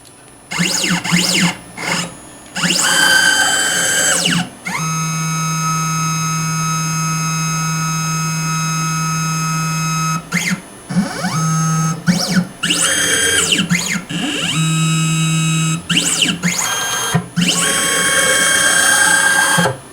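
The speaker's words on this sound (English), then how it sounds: "We'll go right to Jaw 1 and do the tracer calibration." A machine steps through tracer calibration on a vise jaw. Loud motor whines and ratcheting mechanical bursts alternate with long steady hums that carry a low drone, stopping and restarting in repeated cycles, with no talk.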